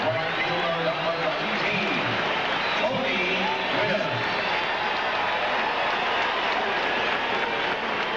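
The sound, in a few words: baseball stadium crowd applauding Tony Gwynn at bat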